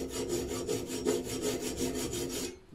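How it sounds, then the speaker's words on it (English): A hacksaw cuts into hot metal along a scribed line at a blacksmith's forge, with a rapid, even series of rasping back-and-forth strokes, close and loud, ending abruptly. "so we're going to use a hacksaw"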